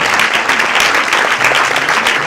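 Audience applause at a French film premiere, a loud, steady wash of clapping from a large crowd that continues throughout without a break.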